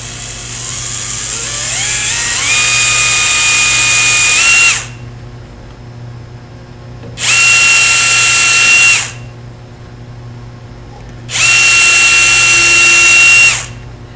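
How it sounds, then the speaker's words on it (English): Power drill boring a hole while making burning wire decorating tools, three loud close bursts of whining motor, the first ramping up in pitch, separated by short quiet pauses. "And now another carefully drilled hole."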